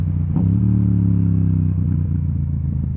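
A motorcycle engine hums loud and steady, close by, with a short rise in revs as the rider downshifts from fourth gear.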